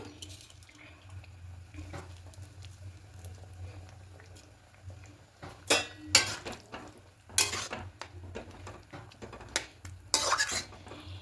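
A spoon stirs and mixes small fish curry in a pan, with scraping and clinking against the metal in irregular bursts over a steady low kitchen hum, the strokes growing louder toward the end.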